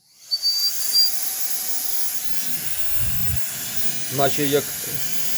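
A steady, high, jet-like whining rush of air from a compact cordless battery air blower fills the clip, with a few brief spoken words under the continuous hiss.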